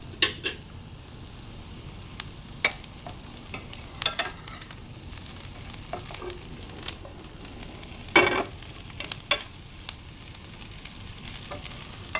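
Onions and garlic frying in a single layer in a pan, an even sizzle punctuated by repeated scrapes and clinks of a utensil against the pan, with no voices.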